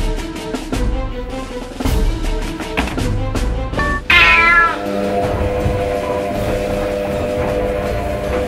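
A cat gives a loud, clear meow partway through, set against rhythmic clattering and plinking tones, with no one talking over it.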